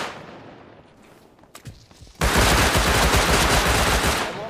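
A Thompson submachine gun fires in Rust, starting with a couple of scattered shots and then a loud, close, rapid automatic burst that lasts about two seconds.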